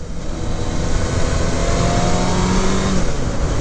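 A 2002 Yamaha YZF600R motorcycle engine runs loud and close, holding a steady, smooth drone throughout with no voices over it.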